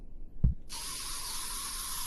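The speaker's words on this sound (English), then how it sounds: "we'll just give them a spray coat" A brief click, then a steady, bright hiss as the spray tool in Oculus Medium virtual sculpting coats a moose head's horns, continuing evenly to the end.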